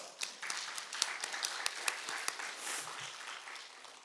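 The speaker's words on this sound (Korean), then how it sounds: "박수 한번 해봅시다" A church congregation applauds during a Korean sermon, a fairly faint, scattered patter of claps that thins out after a few seconds.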